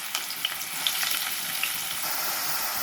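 Onions and green chillies sizzle steadily in hot oil, a continuous close crackle and hiss with small pops and bursts of spitting scattered throughout, and no voices over it.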